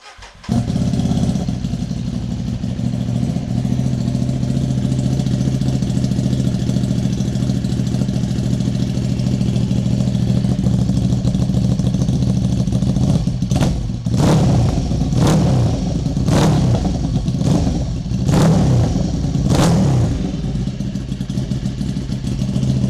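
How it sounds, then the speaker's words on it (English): A Ducati motorcycle engine fitted with an aftermarket exhaust rumbles steadily at idle close by, then revs sharply five or six times in quick bursts before settling back. "I'm excited to start the bike and see how it sounds."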